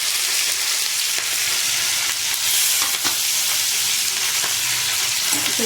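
Onions, green chillies and curry leaves fry in hot oil in a pan, giving a loud, steady, close sizzle with faint stirring scrapes and no talking.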